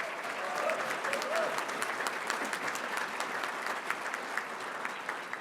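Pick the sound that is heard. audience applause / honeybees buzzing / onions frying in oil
audience applause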